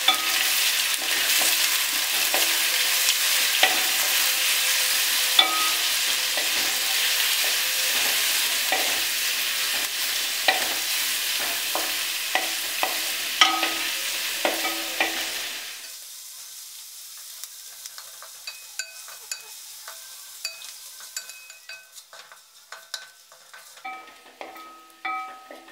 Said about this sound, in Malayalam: ഇനി ഇതൊന്ന് വഴറ്റാം.